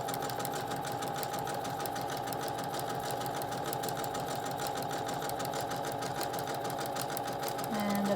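A sewing machine zigzags and back stitches on a medical mask, heard as a steady, close mechanical whir that runs unbroken throughout with a brief pitch shift at the end.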